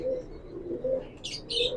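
Pigeon of the Imamdeen breed cooing close by in repeated low, soft phrases, with brief brighter chirps near the end; no talking.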